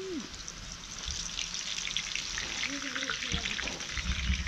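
Jackfruit pieces being fried for chips in an outdoor Konkan household setting, a steady hiss of bubbling oil with soft splashes and stirring, with brief faint voices in the background.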